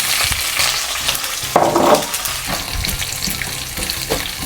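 Onion and curry leaves with fenugreek frying in a pan for Jaffna-style dried-fish curry: a loud, near sizzle broken by brisk spatula stirs and scrapes.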